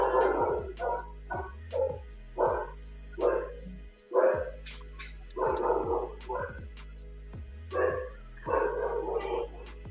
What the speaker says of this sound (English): Someone owns a dog?